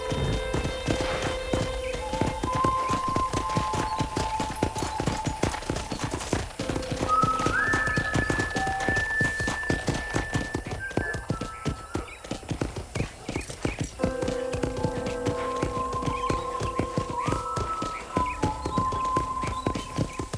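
Steady clip-clop of hooves at a walking pace in Red Dead Redemption on Xbox 360, close and continuous, with music playing underneath and an occasional horse snort.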